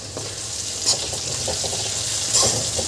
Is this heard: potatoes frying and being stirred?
yes